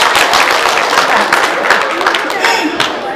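A crowd at a Chinese community association's Lunar New Year gala claps steadily and densely for about three seconds, a broad wash of applause filling the hall at an even level.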